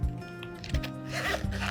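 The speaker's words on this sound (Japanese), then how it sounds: "しっかりとチャックも閉まりますので" A zipper closes on a small fabric case for AVIOT wireless earphones, a close, quick ratcheting rasp that runs about two seconds in short bursts.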